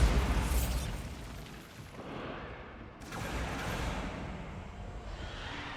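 A Bombarda spell detonates in Hogwarts Legacy with a loud, broad explosive blast up front, followed by a second booming burst midway that trails off into rumbling debris.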